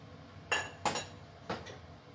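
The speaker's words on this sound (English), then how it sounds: "It's crystal, and it's a" A small crystal glass is handled indoors, giving three bright clinks, two close together and then a third after a pause, each quick and ringing briefly over a quiet room.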